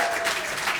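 A pub crowd at a live rugby show in southwest London cheers and claps steadily, a dense, continuous wash of applause throughout with no lull.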